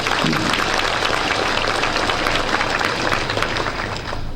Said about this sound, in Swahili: Mwefurahi kupiga rais makofi.